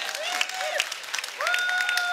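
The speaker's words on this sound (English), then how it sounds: "Give yourselves a round of applause, please." An audience at an entrepreneurship talk breaks into applause, brisk clapping mixed with a few rising whistles and cheers that swell again partway through.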